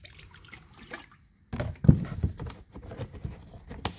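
Brake fluid pours into a liquid mixture of coolant and other fluids, a short splashy glug starting halfway through after near silence, with a few trailing drips.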